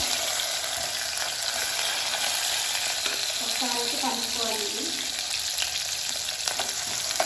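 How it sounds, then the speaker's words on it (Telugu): Onions and green chillies frying in a pan at home, a steady close sizzle with occasional stirring scrapes and no talk over it. "ఉల్లిగడ్డలు పచ్చిమిరపకాయలు మంచిగా మగ్గాయండి"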